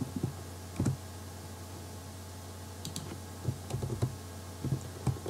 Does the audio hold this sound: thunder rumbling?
no